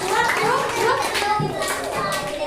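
Children in an Indonesian classroom clap together while young voices chatter and call out over the quick, uneven patter of small hands.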